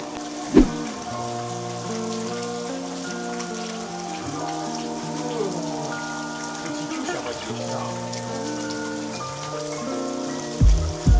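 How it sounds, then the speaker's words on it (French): Rain falling in the mountains near Osaka, a steady soft patter of drops on surfaces under a bed of music, with a few closer louder drips near the start and end. "La pluie, évidemment."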